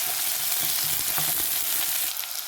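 A slit green chili sautés in oil in a cooking pan for a potato and tomato curry, giving a loud continuous hissing sizzle close up, with faint stirring taps underneath and no talk.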